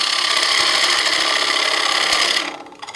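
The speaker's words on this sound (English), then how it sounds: "I'm going to go to my little sweatback spindle gouge now for this cut." A spindle gouge cuts a spinning 7.5-inch wooden disc on a lathe, shaping the curved underside of a birdhouse lid. It gives a loud, steady scraping hiss for over two seconds, then falls away as the tool lifts off.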